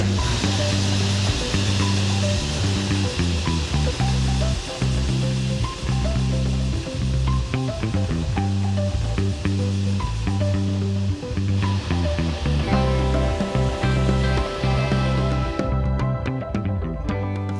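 An electric corn grinder runs continuously as it grinds corn with added water into masa, giving a loud, steady mechanical grinding with a gritty, hissing texture and slight rhythmic pulsing, close up and without talk.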